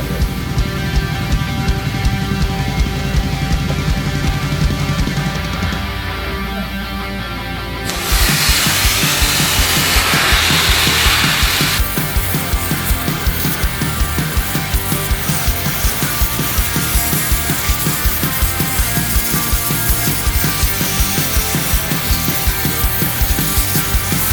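A dry ice blasting machine sprays through a nozzle, giving a steady loud hiss and roar that keeps going for the whole stretch, with a harsher, brighter burst partway through.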